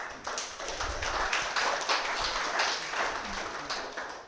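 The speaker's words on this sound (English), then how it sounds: "You guys are very gracious to clap." Audience applause at a JavaScript meetup event, a steady spread of hand clapping with a few sharper claps standing out, fairly close and continuous throughout.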